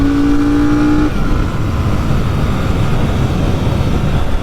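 A Royal Enfield motorcycle, a Shotgun 650 or Hunter 350, accelerating hard through a 0-60 run, with a loud, steady engine roar and wind rush throughout; a rising rev tone in the first second gives way to a broad, continuous drone.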